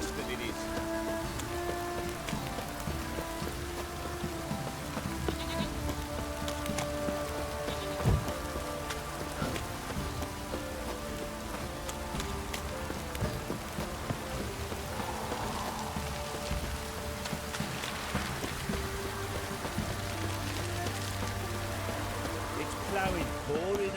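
Heavy rain pours steadily in The Witcher 3, a dense continuous hiss of drops on surfaces that persists throughout, with game music and tones layered underneath and a brief thud near the middle.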